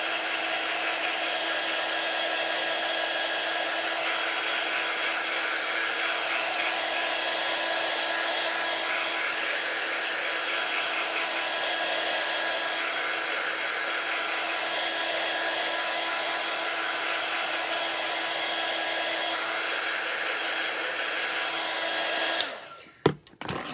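A handheld drying tool blows steadily over a chalk paste craft piece for a Christmas village project, a constant loud whirring hiss that holds for about twenty-two seconds before cutting off abruptly with a few clunks.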